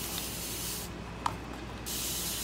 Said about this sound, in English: it's a spray that just continuously sprays